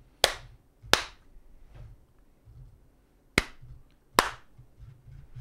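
Four sharp hand claps made to sync a recording, arriving as two quick claps, a pause, then two more, each crisp and close against a quiet room.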